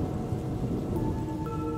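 Torrential rain pours down steadily in a dense, loud roar, with a low rumble of thunder mixed in through the whole stretch.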